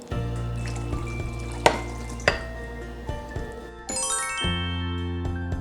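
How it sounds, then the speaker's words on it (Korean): Dried chili peppers go into a hot frying pan, raising a steady close sizzle broken by stirring scrapes and a few sharp metallic clinks and taps. "이거를 넣어주고 안 넣어주고는 차이가 엄청 납니다. 그러니까 꼭 넣어주세요. 고추 넣어주도록 할게요."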